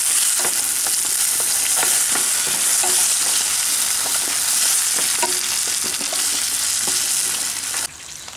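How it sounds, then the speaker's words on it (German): Vegetables topped with cranberries roast in a pan on a charcoal grill, giving a loud, continuous sizzle with scattered stirring scrapes, unbroken by talk, easing slightly near the end. "Aufs Gemüse haben wir jetzt 2 Esslöffel Preiselbeeren drauf. Rösten wir es ein bisschen durch."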